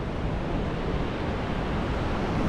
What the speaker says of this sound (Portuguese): Olha lá as ondas, coisa grande.